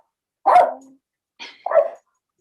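A dog barks twice, close and loud: one full bark followed about a second later by a shorter, two-part bark, with no talking.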